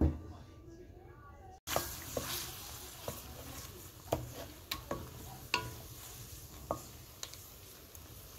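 Oil poured into a hot pan of chicken being cooked bhuna-style without onion, bursting into a sudden sizzle that then carries on steadily, broken by sharp scraping and clicking strokes as it is stirred.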